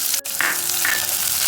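Onion dropped into tempering oil with mustard seeds and chana and urad dal, giving a brief knock followed by a steady close sizzle with no voices.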